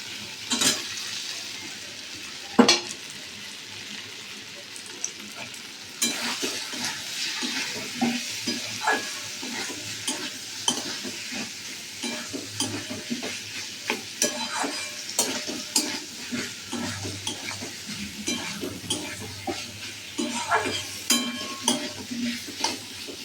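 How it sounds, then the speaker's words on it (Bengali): Potatoes fry in a pan, a continuous close sizzle broken by frequent scraping stirs and light clinks of a utensil against the metal, with no talking. "আলুটা একটু সামান্য সময় ভাজতে লাগবে তো একটু ভাজা হোক"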